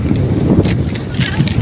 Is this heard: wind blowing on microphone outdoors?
yes